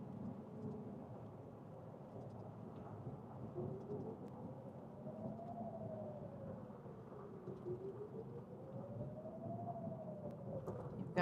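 A tornado warning alert tone from a storm chaser's vehicle radio during a Colorado hailstorm rises and falls in a slow, wavering sweep, faint under steady rumbling rain and storm noise.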